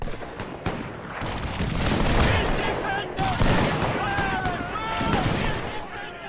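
Musket volleys crackle through a video game battle at Isandlwana, with dense overlapping gunfire and booms filling the scene alongside shouts and other battle noise.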